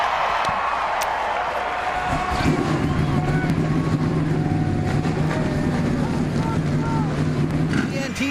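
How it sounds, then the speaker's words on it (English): Many NASCAR Sprint Cup stock car engines fire up together at Michigan International Speedway before the 2009 LifeLock 400, a loud sustained roar that swells after a couple of seconds, with crowd noise behind it. "Gentlemen, start your engines!"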